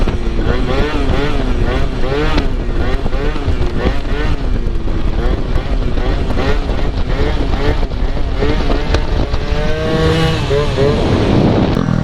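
A two-stroke Honda Elite scooter engine revs hard and falls repeatedly during wheelies, a loud buzzing whine rising and dropping in waves, with wind noise and people talking over it.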